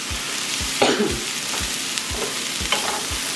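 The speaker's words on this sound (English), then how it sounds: "Throw in our garlic also." Five garlic cloves sizzle in a hot pan during taco cooking, a steady crackling hiss broken by regular stirring scrapes and a few louder pops, close and without talk.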